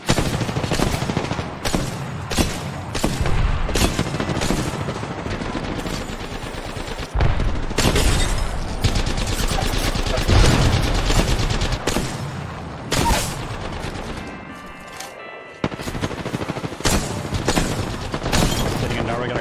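Rapid hipfire bursts in Apex Legends ring out in dense, repeated volleys, with loud cracks and booms packed across the whole stretch, a short lull near the end before firing resumes.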